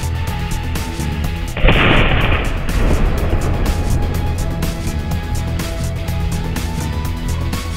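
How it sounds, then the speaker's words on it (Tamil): A single sharp firecracker bang bursts out near the start, followed by a lingering crackle and rumble over a steady background drone. "ஸோ இப்போ வெடி வெடிக்கும்போது எப்படி சத்தம் உருவாதுன்னு உங்களுக்கு புரிஞ்சிருக்கும்."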